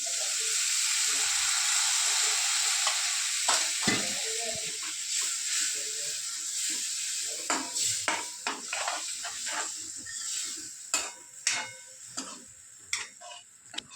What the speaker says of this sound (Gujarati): હવે દહીં રેડીશું આપણે એની અંદર